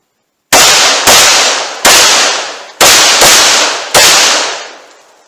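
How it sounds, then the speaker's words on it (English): Six loud, sharp pistol shots at targets seven yards away, fired in quick groups of two and one with short gaps, each crack ringing off briefly, close and alone with no talk. "now I'm going to do 2 shots to the body, 1 to the head on each target at a separate time"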